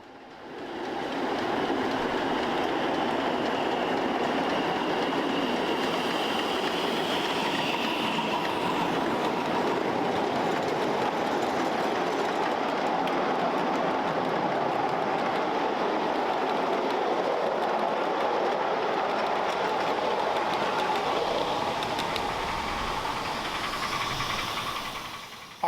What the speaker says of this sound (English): a Pennsylvania Railroad H10 steam locomotive number 8612 wrap the bend with a rather long load for trains of this scale